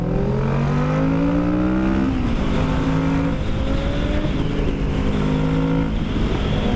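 A Kawasaki Vulcan S motorcycle engine with a modified exhaust revs up and shifts through gears with a rough, throaty exhaust, held close throughout and constantly roaring.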